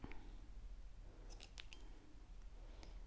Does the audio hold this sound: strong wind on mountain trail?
no